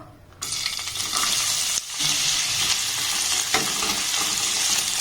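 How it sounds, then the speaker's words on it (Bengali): Chopped onion frying in hot oil gives a steady, loud sizzle with stirring scrapes, a brief dip near the start before the crackle resumes and holds close to the pan. "এর মধ্যে দিয়ে দেবো একটা পেঁয়াজ কুচুনো"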